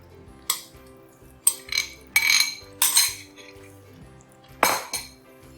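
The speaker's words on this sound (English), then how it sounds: "just mix this keema really well" A spoon clanks and scrapes around a pan of chicken keema in tomato mixture over fairly high heat, giving six or so bright metallic bursts at irregular intervals, up close with no voices.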